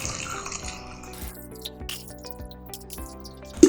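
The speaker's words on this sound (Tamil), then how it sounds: "இப்போ வந்து நான் ஃபஸ்ட்டில் தண்ணி ஊற்றுறேன்." Water poured into a drinking tumbler, a trickling, rising-pitch fill with dripping splashes, moderately loud and alone, ending in a short sharp knock.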